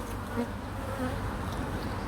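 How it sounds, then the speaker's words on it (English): A dense, steady buzz of many honey bees hums close by at a hive, continuous and unbroken. "there's heaps of bees along there"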